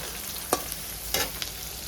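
Panch phoron spices, crushed garlic and green and dried chillies frying in oil for Odia khuda kanji, a steady sizzle with two sharper bursts of spattering and soft stirring clicks.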